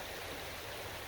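Creek water rushes and flows steadily nearby, a dense constant hiss of moving water with no other sounds.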